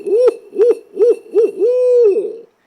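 A person imitates a barred owl, giving four short rising-falling hoots followed by a longer drawn-out hoot, loud, close and alone.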